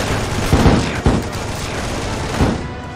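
Toy army minigun fire in Toy Box Battle Simulator, a loud, dense fusillade with several heavier bursts standing out over a constant roar of battle noise.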